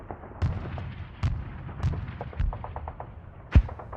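Distant 60 mm mortars in a war video game thud in a slow, irregular series of about six dull booms, the last one sharper and louder, over a low rumbling background.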